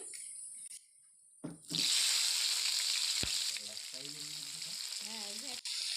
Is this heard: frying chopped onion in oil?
yes